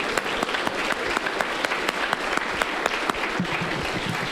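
Audience applause at a live information-security podcast session: dense, even clapping from a crowd, fairly loud and continuous, with some individual claps cracking through.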